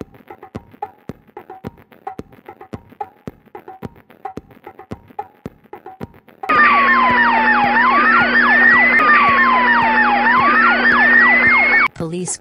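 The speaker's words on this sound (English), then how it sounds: "Police car." A wooden toy police car plays an electronic siren that wails up and down steadily for several seconds after a run of light tapping clicks. The siren is loud and close, then cuts off abruptly.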